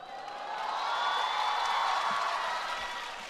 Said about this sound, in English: A little bit of Braveheart-like chanting from the crowd there.